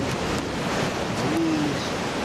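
Stormy sea waves churn and roll in a steady, loud wash of surf with gusting wind noise, continuous and without voices.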